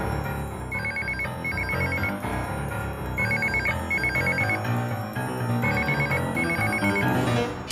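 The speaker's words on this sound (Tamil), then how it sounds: "போன் அடிக்குது, எடுத்து பேசுங்க." A telephone rings in repeated double bursts of bright electronic trills over loud background music in a Tamil television serial scene.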